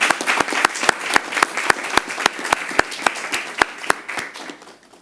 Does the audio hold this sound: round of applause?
yes